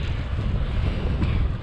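Strong wind buffets the microphone outdoors on a grey, rainy day, a loud steady rumbling roar with no pauses.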